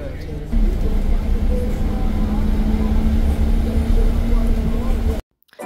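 Inside a Falcon bus on route 456 in Surrey at night, a steady low engine drone and road rumble hold with a constant hum, then cut off abruptly near the end.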